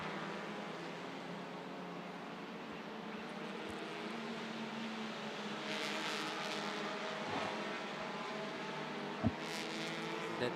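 Race cars lap the Sepang circuit during the Sepang 1000KM endurance race, a distant steady engine drone that swells slightly midway, heard far off and continuous without close passes.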